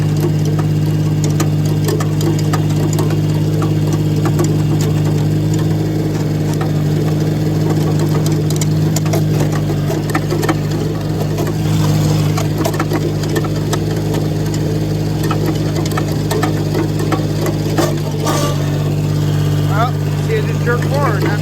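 A Case International 235 Hydro diesel tractor that will not move runs steadily at a close, loud idle, its constant drone overlaid with irregular knocks and grinding from gears failing to mesh.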